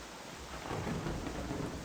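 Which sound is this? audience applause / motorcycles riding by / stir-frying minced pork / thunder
thunder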